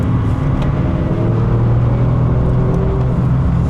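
An Alfa Romeo Giulia Quadrifoglio with its Ferrari-derived engine accelerating on the Donington Park circuit, a loud, steady, close engine roar that holds throughout without a break.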